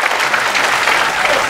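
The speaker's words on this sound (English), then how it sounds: "why are you clapping?" An audience clapping at a talk in Hawaii, a loud, dense, even burst of applause from many people close by, lasting only a moment with no break.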